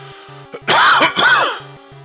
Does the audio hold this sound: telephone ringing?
no